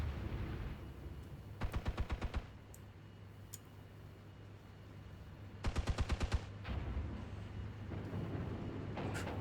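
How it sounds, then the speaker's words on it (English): Infantry gunfire in the Armored Brigade II war game, set in a NATO defense of West Germany: two rapid bursts of automatic fire, each about a second long, over a low constant rumble, followed by a fainter third burst near the end. "Taking some nasty shots there, though, from the infantry in the building, the mech rifle squad."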